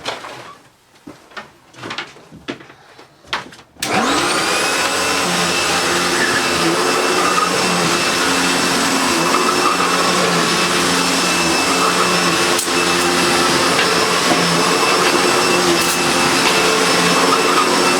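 A refurbished Hitachi Powerhouse CV770D upright vacuum cleaner with a stiff brush roll runs on carpet, starting after a few handling knocks and then droning loud, close and continuous with a steady motor whine.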